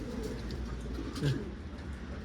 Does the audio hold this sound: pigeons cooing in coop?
yes